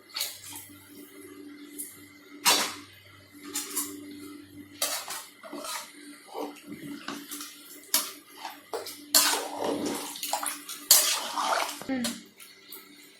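Water poured into a pot while making chicken biryani, with splashing and pouring bursts alongside clinks of utensils and pans. A person talks intermittently over the kitchen sounds.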